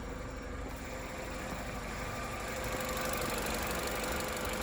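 A Vauxhall Corsa D SXi, a salvage car being rebuilt, idles with the bonnet open, giving a steady low engine hum with an even mechanical rumble and no speech.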